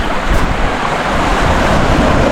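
Ocean waves crash and wash steadily on the rocky shore of a remote island at Paluan, Occidental Mindoro, a loud, close, continuous roar with wind buffeting the microphone.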